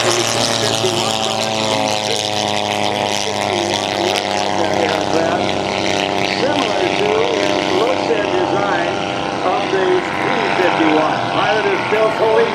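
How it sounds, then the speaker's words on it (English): A scaled-down Titan T-51 Mustang replica propeller plane takes off at an airshow, its engine droning loudly and steadily throughout with a wavering pitch, while an announcer talks over it. "our third airplane takes off. It is done in the T-51."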